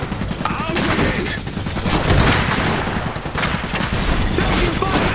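Gunfire and explosions in the real-time strategy game Iron Harvest: dense, continuous volleys of rifle and machine-gun fire with booming impacts, loud and chaotic throughout, under battle noise with no clear talk.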